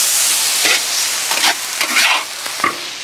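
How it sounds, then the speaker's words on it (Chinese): Lamb and scallions stir-fried in a hot wok with a dash of soy sauce give a loud, constant sizzle, broken by several scraping stirs of the spatula. "再下到大葱，大葱炒香后下到羊肉，放一点点生抽。"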